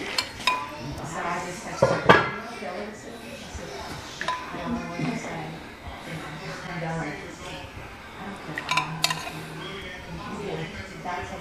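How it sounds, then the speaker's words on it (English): A metal utensil skimming grease off a simmering Cajun meat sauce piquante in a pot, with intermittent scrapes and clinks against the pot under steady conversation. "Right now, what we're doing is skimming from the top"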